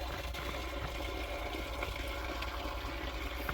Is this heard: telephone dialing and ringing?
no